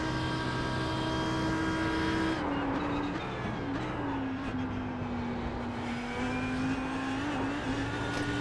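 A race car engine in the iRacing simulator drones steadily, its pitch dipping and rising slightly with throttle changes, continuous and fairly loud with no talk.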